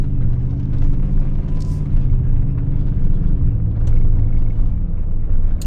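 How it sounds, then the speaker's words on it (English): A large logging truck rumbles along a dirt road, a heavy, steady low-end engine drone close by and fairly loud, sustained across the whole stretch with no talk. "that's a big logging truck kicking a crap ton of dust up"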